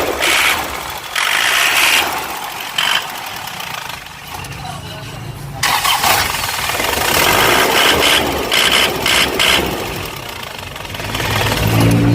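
An Isuzu Hilander with a 4JA1 diesel engine cranks and settles into a rough, clattering idle, the knocking rhythm steady and close, with short gaps and a bit of talk over it.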